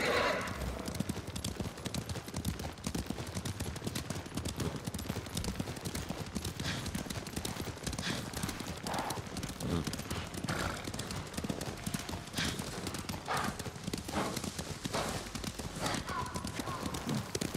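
Horses gallop in the video game Ghost of Tsushima, with rapid clip-clop hoofbeats running throughout alongside whinnies and loud in-game action, while voices speak over it.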